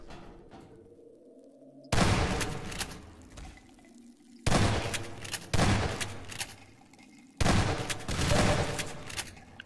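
Four loud bursts of gunfire in Half-Life 2, each a sharp crack with an echoing tail. Quieter, hollow ambient tones fill the pauses between shots.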